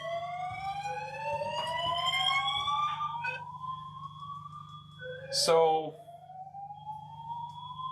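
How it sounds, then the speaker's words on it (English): Smoke detector fire alarm in a shed, set off remotely by a home automation system, sounding clear rising electronic sweeps that repeat, heard at moderate distance under a low hum, with a brief spoken word and a short clatter partway through. "That's Home Assistant setting off this fire alarm."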